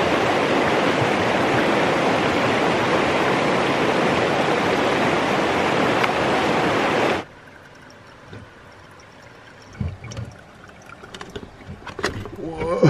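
Snowmelt water rushes loudly and steadily through a camping water filter for about seven seconds and then stops abruptly, leaving quiet handling noises afterward.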